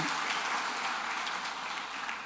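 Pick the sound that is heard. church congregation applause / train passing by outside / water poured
church congregation applause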